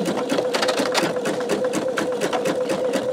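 A sewing machine stitches the border of a greeting card backed with peel-and-stick stabilizer, its rapid needle strokes running in a steady, close, continuous buzz with no talk over it.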